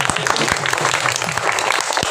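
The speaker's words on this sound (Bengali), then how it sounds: "জোরসে একটা হাততালি হবে কিন্তু" Sustained, loud applause from an audience at a spiritual reception prize giving, steady clapping throughout with no pauses.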